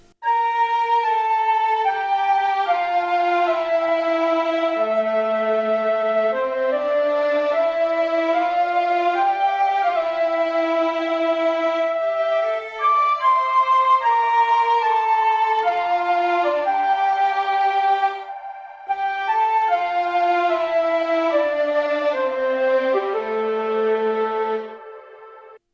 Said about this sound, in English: now I'm simply playing it with the flute from Sinful Orchestra,